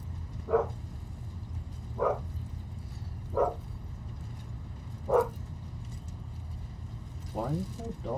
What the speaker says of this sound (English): Why is that dog barking so loud at me?